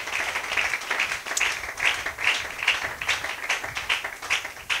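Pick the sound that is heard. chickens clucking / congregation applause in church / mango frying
congregation applause in church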